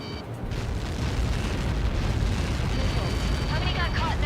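A massive Helios projectile impact explodes in the Ace Combat 7 air-combat game as a deep, sustained rumbling roar. The blast swells after a moment and keeps booming steadily at full loudness.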